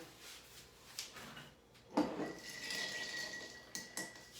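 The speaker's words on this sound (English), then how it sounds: "Chunk of crystal clear ice, we're gonna flip that over. Drop that in." A crystal clear chunk of ice dropped into a glass: one distinct knock and clatter midway, followed by a faint ringing and a few small clinks, close but quiet, no speech.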